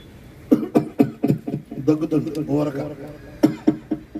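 A preacher's voice imitates an old man's cough with a quick series of short, rough, rhythmic bursts, then a brief drawn-out vocal sound and more coughs, close and clear.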